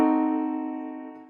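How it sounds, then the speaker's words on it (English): A single fully diminished seventh chord struck once, its tones ringing together and slowly decaying. "this is a fully diminished 7 chord."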